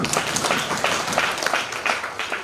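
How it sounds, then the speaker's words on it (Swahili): A crowd at a Kenyan political rally claps and applauds steadily, with irregular bursts of hand claps running continuously through the moment, fairly loud and close. "tuwapigia makofi tafadhali"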